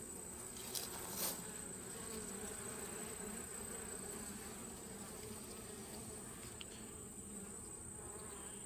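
Honey bees hum around an open vault hive in Spencer County, a faint, steady buzzing drone with occasional closer passes.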